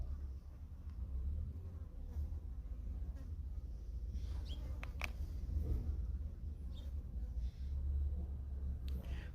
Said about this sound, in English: Bees are flying right past my face.